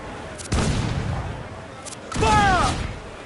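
Ship cannons firing in Assassin's Creed 4 Black Flag, two heavy booming blasts a couple of seconds apart with rumbling tails, while voices shout over the battle.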